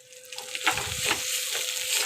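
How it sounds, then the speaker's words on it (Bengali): Spices sauté in hot oil in a pan for fish-head moong dal, a short close burst of sizzling and scraping as they are stirred, heard alone without talk. "ভালো করে মশলাটা কষিয়ে নিচ্ছি"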